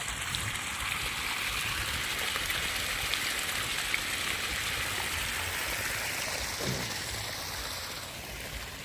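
Water runs steadily into a rice paddy being prepared for planting, a continuous outdoor trickle and rush that stays at an even level throughout, with no talking.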